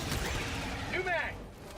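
Video game gunfire crackles in dense, rapid bursts that run almost continuously, loud and close, easing slightly near the end.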